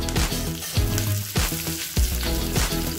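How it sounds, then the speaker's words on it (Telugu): Mustard seeds, cumin, urad dal, dried chilies and curry leaves frying in hot oil for a tempering, a loud dense crackling sizzle with repeated popping bursts and stirring, close up. "ఆయిల్ కాగిన తర్వాత ఇందులోకి ఆవాలు, జీలకర్ర, మినపప్పు, అలాగే ఎండుమిరపకాయలు, కొంచెం కరివేపాకు వేసి"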